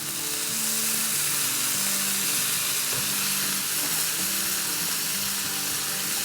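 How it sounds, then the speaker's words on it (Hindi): Frozen mixed vegetables frying in hot oil in a pan give a loud, steady sizzle and hiss throughout, heard up close with faint tonal background music beneath. "1 टेबलस्पून ऑयल डालते हैं और हमारे पास ये देखें आधा कप मिक्स वेजिटेबल फ्रोज़न पड़ी हुई थी, तो वो हम डाल रहे हैं।"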